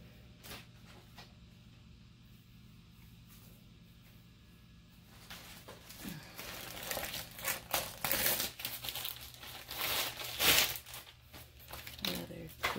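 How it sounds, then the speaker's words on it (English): Fabric crinkling and rustling as a printed t-shirt is folded up by hand, starting quiet and growing louder and busier in the second half, with soft shuffling handling sounds. "fold my shirt up"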